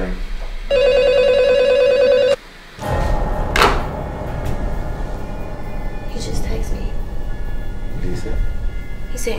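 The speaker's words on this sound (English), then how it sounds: "Let it ring." A telephone rings with a steady electronic tone for about two seconds, then stops abruptly; background noise, faint knocks and soft voices continue afterward in a tense indoor home setting.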